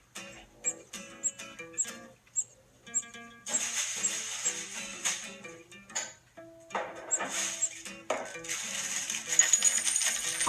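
Coins drop and clink repeatedly as a sound effect, in a series of bright metallic jingles and scattered clatters, some sparse and some in dense bursts, at moderate level with no talk.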